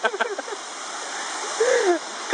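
Waterfall at Pattathippara in Thrissur's Pattikkad range rushing steadily as a broad, continuous wash of water noise, with a person's voice briefly audible at the start and end.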